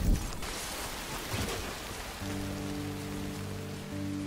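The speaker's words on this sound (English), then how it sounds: "Rain again" Steady rain hiss in the video game Death Stranding, a broad wash of falling drops; after a couple of seconds low sustained tonal music hums in underneath.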